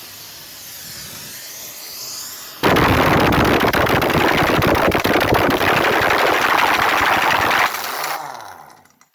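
A pneumatic impact wrench hammers loudly on a sump nut of a Gardner 6LXB engine in one sustained rattling burst of about five seconds, starting abruptly and cutting off, with quieter workshop noise around it.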